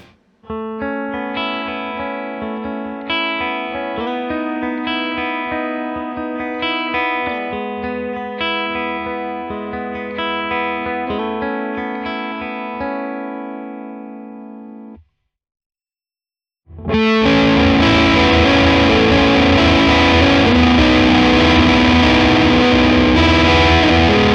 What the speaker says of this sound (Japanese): そういう要素を分解して合体させたみたいなペダルになってます